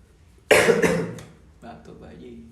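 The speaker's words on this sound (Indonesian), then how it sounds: "Batuk bayi." A baby coughs once in a short harsh burst, close and fairly loud, followed by softer throaty vocal sounds fading out.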